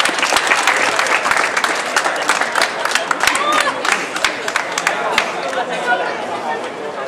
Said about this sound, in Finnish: raikuvat aplodit Tonille.